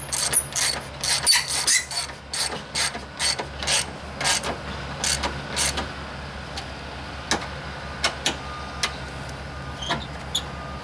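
A hand tool tightens the screws holding a side marker and blinker light on a Dodge Ram, giving close, rhythmic bursts of ratcheting clicks that are dense at first and then thin out to sparse single clicks.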